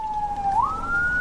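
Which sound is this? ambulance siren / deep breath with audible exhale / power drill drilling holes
ambulance siren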